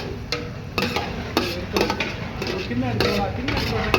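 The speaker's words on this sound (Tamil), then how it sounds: "நெய்யில் நல்லா சூப்பராக பொன்னிறமாக அப்படியே பொரிஞ்சு வந்துட்டு இருக்கு" Whole spices and cardamom fry in ghee while a spoon scrapes and stirs in the pan, with repeated clinks and scrapes over a continuous low sizzle.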